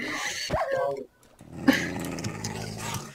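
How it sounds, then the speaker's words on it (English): Dogs in Minecraft barking and yipping in short bursts, close and fairly loud, with a brief gap of near silence before more yelps and growls, mixed with voices talking. "Dude, don't kill the dogs."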